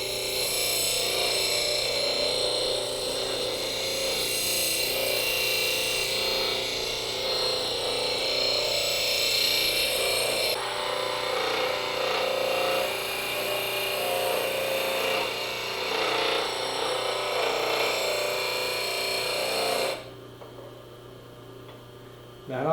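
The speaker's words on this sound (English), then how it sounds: "Turn on the grinder. And then with a gentle touch, just go about grinding that edge." A bench grinder runs steadily while a spindle gouge bevel is sharpened in a Oneway Wolverine jig, giving a continuous broadband grinding whir with a low hum that carries on for about twenty seconds and then drops off.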